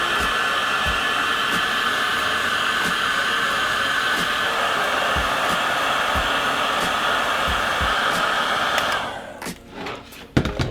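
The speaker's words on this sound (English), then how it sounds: "And then with the heat gun, we're going to shrink the tubing." Heat gun shrinking heat shrink tubing over joined wires, a loud, steady blowing hiss that runs for about nine seconds, then cuts off into handling noise and faint clicks.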